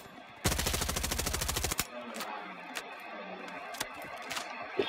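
A burst of rapid automatic gunfire in a first-person shooter game lasts over a second, followed by a few scattered single shots at a distance.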